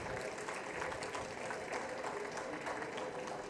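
Steady applause from an audience at a talk on sexual harassment, a dense continuous patter of clapping at moderate distance, even in loudness throughout, with no speech over it.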